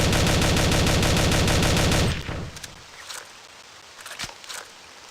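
Rapid automatic fire from an LR300 rifle in a S.T.A.L.K.E.R. build, a loud continuous burst of evenly spaced shots for about two seconds, then stopping, followed by quieter shuffling footsteps and faint movement.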